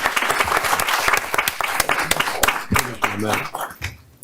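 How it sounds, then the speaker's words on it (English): Audience applause for the Garcia Middle School color guard at a school board meeting, a dense run of many hands clapping that carries on steadily, with a voice briefly speaking over the tail end as it thins out. "Let's give them a round of applause."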